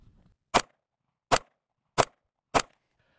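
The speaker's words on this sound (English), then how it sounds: "Let's go ahead and take some shots." Four sharp rifle shots fired at a target, evenly spaced and alone, each a short loud crack with a quick decay and silence between.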